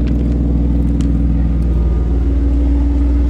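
A deep, loud engine rumbles close by with a throaty, pulsing idle and a slight rise in revs, no voices over it.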